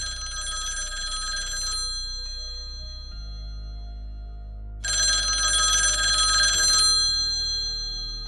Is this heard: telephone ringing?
yes